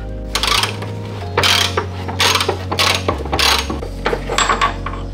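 A ratchet clicks in several quick bursts, close and loud, as it undoes a subframe bolt on a 1994 Toyota Celica GT, with short pauses between the bursts of ratcheting.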